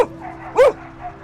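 A rescued dog at an Alabama animal rescue gives a single short, sharp bark up close, with a faint yip before it.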